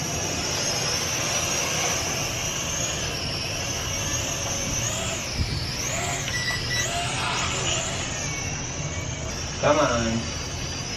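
A lightweight Arris foldable drone takes off and flies outdoors in rain and a slight breeze, its high rotor whine holding steady and wavering in pitch as it moves, with wind noise, and a person speaks briefly near the end.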